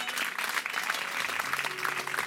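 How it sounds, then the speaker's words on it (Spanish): A church congregation at an evangelistic gathering in Macochín, Sonora, claps loudly and steadily, with a faint tone of music or voices underneath the dense applause. "Dale un fuerte aplauso a Dios"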